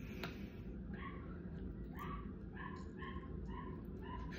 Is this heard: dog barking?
yes